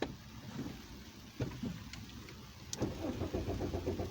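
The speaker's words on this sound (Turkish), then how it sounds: "Şimdi arabayı çalıştıralım." A car engine cranks and catches, then settles into a steady low idle rumble, heard from inside the vehicle.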